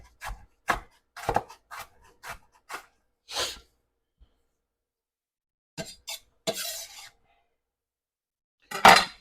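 A knife chops half an onion on a wooden cutting board, giving a run of crisp, close thuds in uneven bursts, a pause, then a few more strokes, with no talking.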